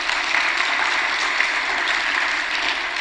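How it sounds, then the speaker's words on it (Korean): Church congregation applauding a dawn praise choir, a steady dense wash of clapping that holds at an even level for the full stretch with no voices rising above it. "박수로 한번 격려하세요"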